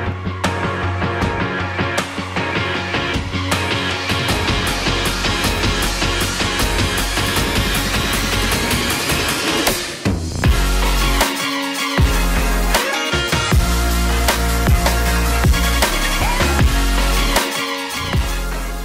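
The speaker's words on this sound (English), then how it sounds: "Sorry about the wind noise." Heavy wind buffeting a microphone out on a frozen lake during an ice fishing trip, a loud, constant rumbling roar with gusty thumps and crackles throughout and no talk.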